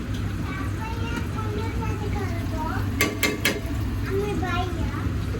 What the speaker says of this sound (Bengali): কড়াইতে গরম তেলের মধ্যে পেঁয়াজ কুচি কাঁচামরিচ কুচি এবং টমেটো কুচি আমি দিয়ে দিলাম